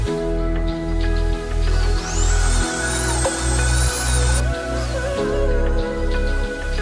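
Steady loud motor whine of a heavy drill grinding into a thick masonry basement wall, with pulsing surges as it bites, a high-pitched whistle riding over part of it.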